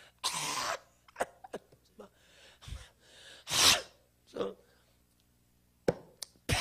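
Harsh, breathy coughs and throat-clearing bursts from an elderly person come in irregular spurts, one noticeably louder, separated by quiet gaps with small clicks.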